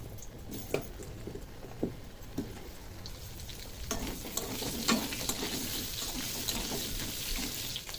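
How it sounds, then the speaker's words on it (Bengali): Potatoes frying in oil left over from frying fish, a steady close sizzle with occasional stirring clatter and scrapes running throughout. "এখানে এই মাছ ভাজা তেলের মধ্যে আরও একটু তেল দিয়ে দেবো আলুগুলো ভেজে নেবো"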